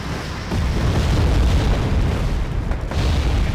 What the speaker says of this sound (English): Topspin sends a Jaguar to drop some bombs on that position